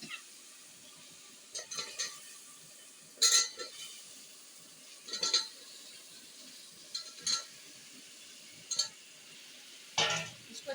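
Potatoes stir-fried in masala for a cauliflower-potato dish: quiet, intermittent scrapes and clinks of a spoon against the pan recur every second or two over a faint background sizzle.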